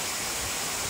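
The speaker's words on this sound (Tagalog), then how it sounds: "Sabing talon po yan." Constant hissing roar of falling water from a waterfall, even and unbroken throughout, nearby and without any talking.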